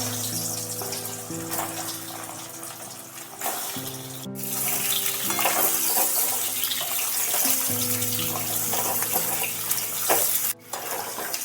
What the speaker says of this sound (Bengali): তেলের মধ্যে এবার আস্তে আস্তে আলুগুলোকে ছেড়ে দিচ্ছি।